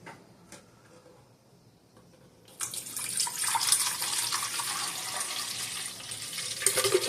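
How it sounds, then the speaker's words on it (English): Bottled water is poured into the water reservoir of a new home bar machine. After a quiet opening with a few small knocks, it starts as a sudden, steady, close splashing stream that runs on to the end. "So now I have to fill this with water. And I'm going to use bottled water to fill mine."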